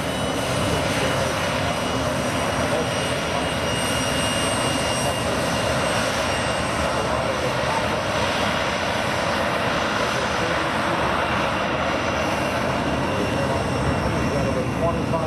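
A MiG-17F jet makes a high-speed pass at the 2016 MacDill air show, its engine a loud, steady roar that fills the whole stretch without fading.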